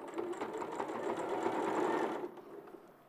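Sewing machine stitching in a live studio, a close steady whir with quick needle pulses lasting a couple of seconds before trailing off.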